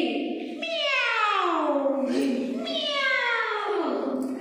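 A voice imitates a cat with two long, drawn-out meows, close and clear, one after the other.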